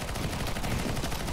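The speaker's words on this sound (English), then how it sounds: "Shoot the zombies one by one, man." Rapid automatic gunfire from a CS:GO zombie-mode match, a dense, continuous burst of shots close up that fills the short stretch without pause.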